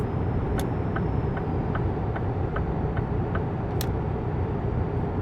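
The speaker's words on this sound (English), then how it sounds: "all you hear is the whoosh of the engine and the turn signal" In the video game American Truck Simulator, a truck engine gives a steady loud whooshing drone while the turn signal ticks in an even, regular rhythm over it.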